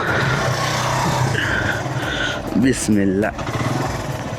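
A motorcycle engine runs at a steady idle on a mountain road trip, a close continuous rumble with someone talking over it.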